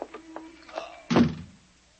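A front door handled as a radio drama sound effect: a few light clicks and rattles, then one solid thunk as the door moves, close and clear, with no voices.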